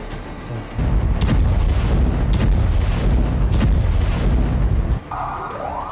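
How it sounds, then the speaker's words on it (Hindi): A heavy bomb explosion in Gaza, meters from Al-Shifa hospital, hits after a short lull, followed by booming rumble and sharp cracks, then a siren-like tone rising near the end. "यह धमाका गाजा के अल शिफा अस्पताल से कुछ ही मीटर की दूरी पर हुआ।"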